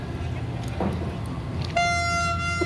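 A Vande Bharat Express train at a station platform on the Secunderabad to Tirupati route, with low rumbling background noise followed by a sharp, sustained horn toot that enters partway through and holds loud to the end.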